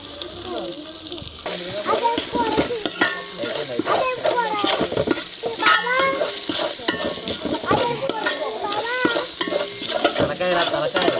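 Goat head curry being stirred and fried in a pot over a wood-fire stove, with steady loud sizzling and scraping stirs throughout, while a voice talks over the cooking.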